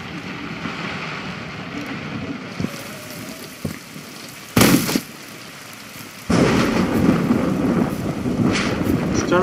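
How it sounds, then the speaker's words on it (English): Loud thunder and heavy rain in the video game Generation Zero rumble and crack, with a sharp burst partway through and then a sustained roaring downpour. Faint talk sits underneath. "Really fucking loud in the thunder."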